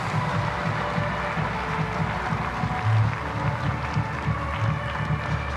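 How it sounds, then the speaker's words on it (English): A talk show studio audience gives steady, sustained applause for the guests, a dense wash of clapping that holds evenly throughout with faint crowd murmur underneath. "please, one more round of applause for all of our guests"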